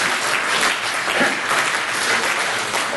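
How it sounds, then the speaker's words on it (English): Audience applause fills a Millennium Park presentation, a dense, steady clapping from many hands that holds at even strength throughout, with no voices over it. "we'll accept that applause"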